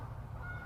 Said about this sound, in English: is that geese out there? There's a bunch of geese out there.